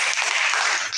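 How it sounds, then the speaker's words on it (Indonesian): A classroom of students clapping their hands together, a short, dense burst of applause lasting about a second at close range. "Tepuk tangan ya."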